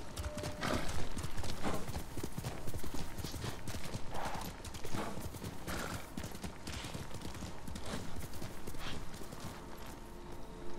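Rapid hoofbeats of a horse galloping in the video game Ghost of Tsushima, a steady thudding clip-clop that runs throughout, with a brief whinny and someone talking faintly over the top.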